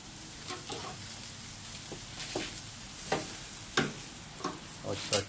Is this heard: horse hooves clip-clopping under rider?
no